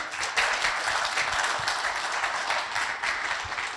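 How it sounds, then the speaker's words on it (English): Applause from an audience at an entrepreneur and investor event, dense continuous clapping held at a fairly even level for a few seconds. "go give yourselves a round of applause for even being here"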